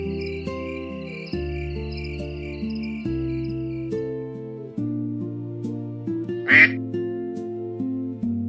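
A duck gives a single short quack, loud and close, over soft, slow lullaby music that plays throughout.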